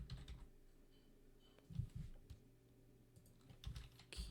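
Quiet clicking of a computer keyboard, irregular bursts of keystrokes with short pauses between, close and soft, no talking.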